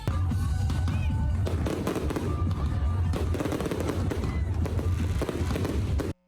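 Loud, continuous crackling and booming of a festival fireworks display at the Sinulog Festival in Pasil, dense overlapping bursts with faint crowd voices underneath, sustained throughout before cutting off abruptly.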